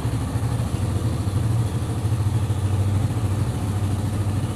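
Suzuki Satria FU 150 motorcycle engine idling close by, a steady low throbbing rumble with an even pulse and no voices.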